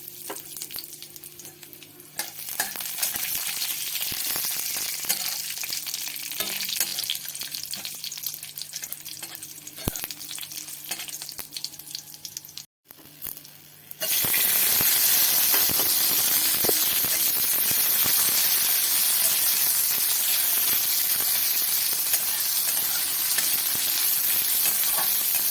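Garlic, onion, chili and black cumin frying in hot oil in a wok, with stirring scrapes over a steady sizzle that grows louder and hissier partway through after a short gap.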